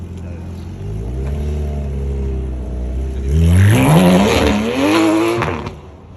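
A twin-turbo Ferrari F12 engine idles with a deep rumble, then revs sharply several times, the roar climbing and falling, with voices underneath.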